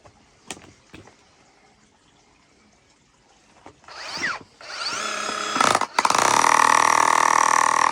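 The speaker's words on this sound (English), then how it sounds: "this is my Makita XGT drill. So this is really just for chipping" A Makita XGT 36V SDS max breaker chips thin concrete with a little rebar in it. A few sharp knocks and brief bursts come first, then loud, continuous hammering runs close to the end.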